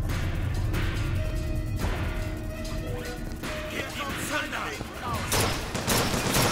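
Rapid bursts of carbine gunfire and crashing impacts in the first-person shooter Bioshock Infinite, loud and dense, with overlapping shots and a voice speaking over the action.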